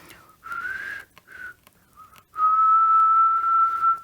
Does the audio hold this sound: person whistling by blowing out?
yes